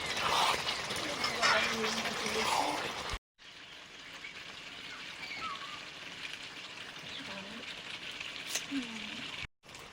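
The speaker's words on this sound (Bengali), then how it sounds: "মাংস কষানো চলছে, এবারে ভেজে রাখা আলুগুলো দিয়ে দেবো।" Fried potatoes dropped into meat being sautéed in a pan for a Bengali meal, giving a steady moderate sizzle and frying hiss with a brief sharp break partway through, and no talk over it.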